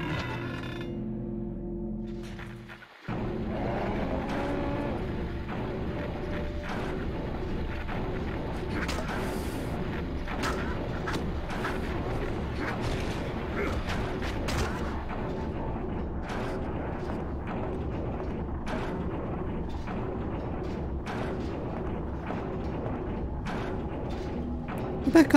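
Dense mechanical industrial music from the Silent Hill: Origins game, a clanking, thudding bed of metallic hits and grinding textures that kicks in abruptly after a few quiet seconds and plays steadily throughout.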